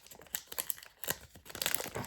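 A Pokémon booster pack is torn open with close, crisp crinkling and ripping of foil wrapping in quick irregular bursts, with no talk.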